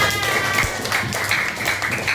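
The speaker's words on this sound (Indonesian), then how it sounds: "Oke, tepuk tangan." Children in a fifth-grade class clapping together, a dense, steady patter of hands held for a couple of seconds under a room full of chatter.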